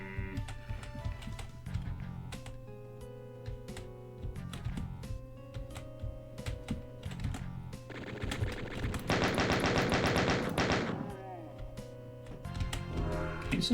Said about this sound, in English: Some very inaccurate chain gunners tonight.